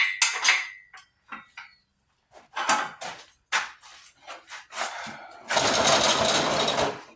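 Loose debris rattles in the oil pan of a damaged engine as the motor is rolled upside down, making irregular metallic clatters and knocks in short bursts, ending in a louder, continuous scraping rush.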